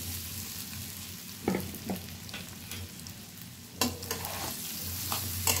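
Spice-coated rice is stir-fried in a pan for Bengali sweet basanti pulao, giving a steady crackling sizzle broken by a few sharper scraping stir strokes.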